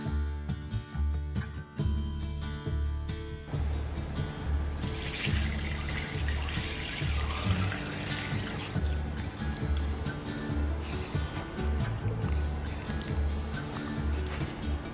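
A homemade laundry detergent mixture is whisked after drops are added, giving a steady, close rhythmic sloshing with light clinks of the whisk against the bowl.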